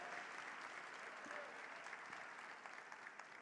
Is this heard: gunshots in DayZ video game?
no